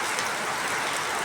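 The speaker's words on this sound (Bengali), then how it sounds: "গুড়ি গুড়ি বৃষ্টি," Light drizzling rain makes a continuous soft, even hiss throughout, with no voices.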